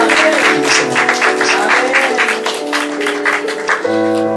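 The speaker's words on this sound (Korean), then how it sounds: "다시 한번 박수해 주세요." A church congregation applauds during an afternoon service, a dense steady wash of clapping that runs throughout, with sustained tones, likely music, sounding underneath and near the end.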